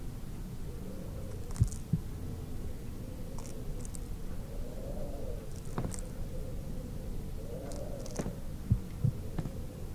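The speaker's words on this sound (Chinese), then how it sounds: "我为什么会听到心跳声呢？" A slow, steady heartbeat throbs under a low droning hum, with occasional soft clicks between the beats.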